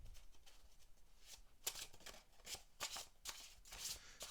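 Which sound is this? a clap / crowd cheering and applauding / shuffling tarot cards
shuffling tarot cards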